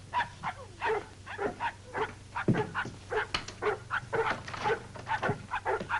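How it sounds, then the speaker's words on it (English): Dogs bark steadily in a fast, uneven run of yelps and barks through a cold northern outdoor scene, loud and fairly close, with no talk over them. "It's not a man. It's a dog."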